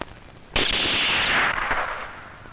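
During target shooting in a Hindi action film, a single loud gunshot cracks out abruptly and rolls into a long, booming echo that fades slowly.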